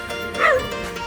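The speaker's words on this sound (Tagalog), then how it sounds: "At may aso." A dog gives a single short, high yipping bark, close and moderately loud, over a steady background hum at a relative's house.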